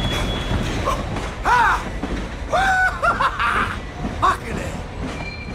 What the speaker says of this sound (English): Let's catch a train! Let's hop the train!